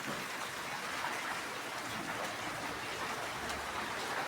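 Heavy rain pours steadily without a break, a dense, even hiss filling the whole stretch with no voices.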